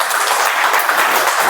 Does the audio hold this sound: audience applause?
yes